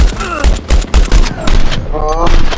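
Rapid gunfire from firearms in the VR game Hard Bullet, loud and close in dense bursts, with a voice briefly audible among the shots.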